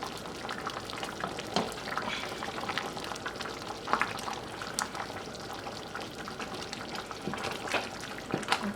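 Guyanese kitchri boiling in a pot, a continuous bubbling simmer with irregular pops and occasional soft stirring clinks, close and steady with no talking.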